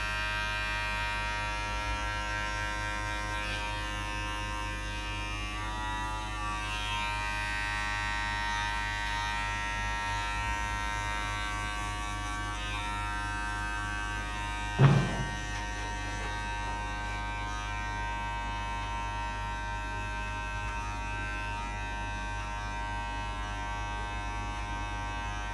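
Electric hair clipper buzzing steadily while doing a girl's skin fade at a barber, a close constant hum with one brief louder bump midway.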